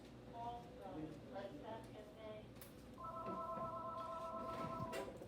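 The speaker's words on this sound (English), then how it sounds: "That was a call in the background." Telephone tones in the background of a wrestling talk show, steady beeping ringback-like tones running faint under someone talking, growing more sustained toward the end.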